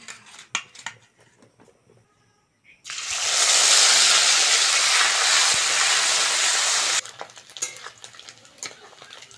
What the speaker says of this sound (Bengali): মাছগুলো বন্ধুরা ভালো করে ভেজে নিয়েছি ছাঁকা তেলে